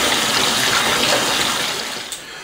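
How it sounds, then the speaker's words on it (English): Hot tap water gushes steadily and close into a tub where beer bottles are soaking, a broad continuous splashing rush that eases slightly near the end. "you can turn off your hot water and leave it for a couple of hours"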